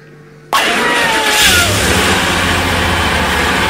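A show jingle for a segment about motorcycle engine types starts abruptly with a loud, close engine revving sound that holds steady and strong to the end.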